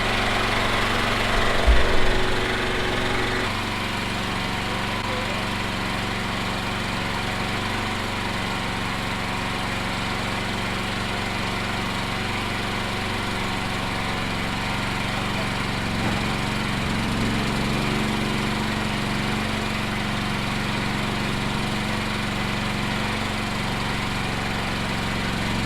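A Champion 100520 generator running on natural gas, with a brief louder burst as it starts, then a steady, continuous engine drone that holds at an even level with no talk.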